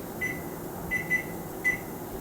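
Microwave oven running with Pop-Tarts inside, a steady low hum with faint background noise and a few short high beeps or tones scattered across the moment.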